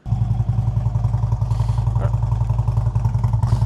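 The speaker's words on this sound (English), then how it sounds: "Let's go ahead and fire it up. Let you guys hear what it sounds like." A 2009 Harley-Davidson CVO Road Glide motorcycle engine running at a steady idle, a loud, close, low throbbing rumble with a clattery mechanical beat throughout, plus a brief thump near the middle.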